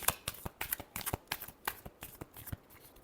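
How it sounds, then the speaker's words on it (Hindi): Tarot cards shuffled by hand during a Libra reading, giving a quick run of crisp, close riffling snaps and flutters with no talking. "last shuffle"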